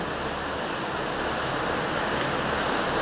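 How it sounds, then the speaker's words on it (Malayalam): Heavy rain falls outside in a dense, steady hiss that fills the whole stretch without pause, with no voices. "ഭയങ്കര മഴ പെയ്യുന്നുണ്ട് കേട്ടോ പുറത്ത്"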